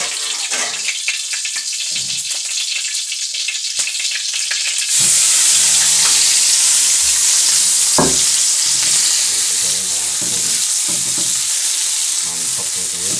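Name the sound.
frying honje sambal in a pan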